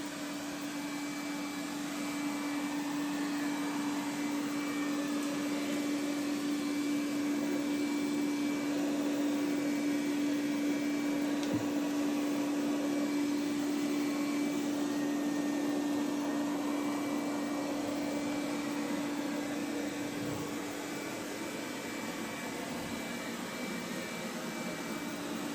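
A Roborock Qrevo Curv 2 Pro robot vacuum cleans the floor with a steady, even motor hum and a fixed tonal whine, running close and unbroken with no talking.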